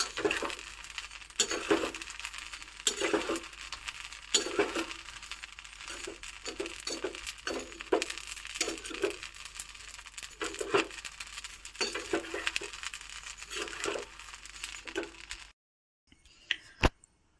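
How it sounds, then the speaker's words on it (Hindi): Coriander and cumin seeds dry roasting in a pan, heard as a steady run of light rattling clicks and taps as the seeds are stirred and tossed, fairly close, with no voices, before a brief near-silent stretch at the end. "अब जो हमारा धनिया और जीरा था ये अच्छे से भुन गया है"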